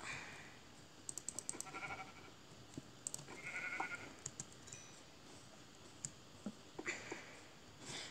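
Sheep bleat faintly in a Minecraft world, short broken calls scattered across the stretch alongside light keyboard clicks and tapping.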